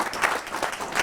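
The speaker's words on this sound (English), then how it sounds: "So a round of applause to City of Toronto." Short burst of audience clapping at a leadership event, several hands striking in quick uneven pulses, fairly loud and brief.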